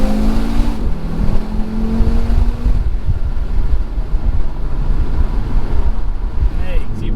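Audi RS3 with DQ500 dual-clutch gearbox, engine note falling through a downshift with a crackling overrun, heard from inside the cabin under heavy wind and road rumble.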